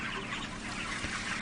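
Chickens on an Indonesian chicken farm cluck softly amid a steady background hum, with faint scattered calls rather than any single clear close cluck.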